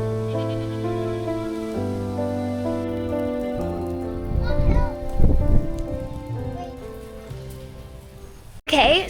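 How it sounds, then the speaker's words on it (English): Rain from a passing summer storm falls on a farm and swells to a heavier patter midway. A sustained tonal hum sits underneath, and a sharp break comes near the end. "the storm, it's pretty rainy out there"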